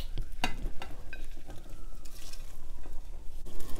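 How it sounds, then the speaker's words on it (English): Mushrooms and onion stirred into a pot of Korean chicken curry, with a moderately loud wet sizzle, irregular scraping and patter, and a sharp utensil clink near the start. "Give this a mix really good."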